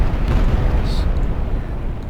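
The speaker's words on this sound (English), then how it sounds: "now we should see a big explosion appear automatically" A big explosion effect from a custom Unreal Engine 4 weapon bursts as a loud, rumbling blast with heavy low end, then rolls off slowly into a fading roar.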